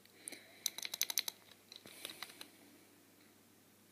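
Keys clack on the keyboard of a Dynawrite speech device in quick, quiet bursts of clicks, followed by a few scattered taps and then a pause.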